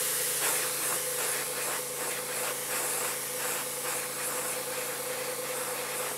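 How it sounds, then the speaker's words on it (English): An airbrush sprays light weathering paint onto the fuel tank and frame of an N scale model locomotive, a steady close hiss running unbroken with faint pulsing. "spray a little bit here very lightly on the truck's fuel tank and frame of the locomotive"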